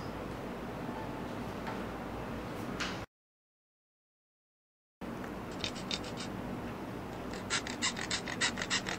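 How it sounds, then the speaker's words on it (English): Nails filed with a rasping emery board, a soft scratchy scraping that breaks off, then returns as quick rhythmic strokes, close and fairly quiet with no talk. "Filing nails."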